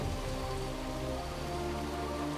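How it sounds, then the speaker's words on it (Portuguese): Steady rain pours down in a dense, even hiss of drops on surfaces, close and unbroken from start to finish with no voices. "A chuva é o teste máximo."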